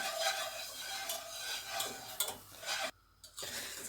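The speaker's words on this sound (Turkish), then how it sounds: "Şimdi güzelce salçayla biraz daha yağda kavurmuş olacağım." Flour roasts in oil with tomato paste in a pan, heard as soft scraping stir strokes with faint sizzle and a brief pause near the end, no voices.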